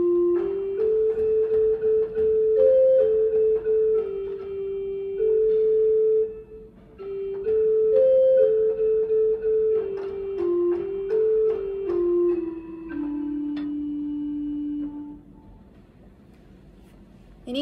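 Pipe organ playing a melody based on the first Gregorian psalm tone, from a Scheidemann Magnificat setting; sustained stepwise notes hover in a narrow range, with short pauses between phrases, settling onto a lower held tone at the close.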